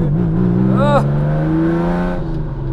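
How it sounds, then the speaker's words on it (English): A Lamborghini Countach 5000 QV with a straight-through exhaust runs at a steady, loud, rumbling idle close by. A brief rising whine cuts in partway through. "As you can hear, this is pretty loud. This has got a straight through pipe, which makes it insanely loud."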